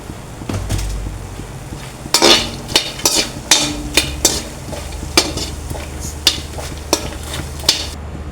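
Fox nuts roast in a pan as a utensil stirs them, giving repeated sharp scraping and clattering strokes in an irregular rhythm over a soft sizzling background, close and loud with no voices.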